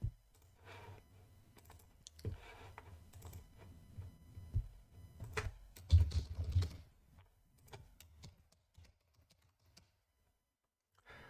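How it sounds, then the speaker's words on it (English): Someone types on a computer keyboard during a game stream, sparse clusters of quiet key clacks and clicks with short pauses between them, close by and faint, heaviest bursts midway. "Now you probably still hear my keyboard"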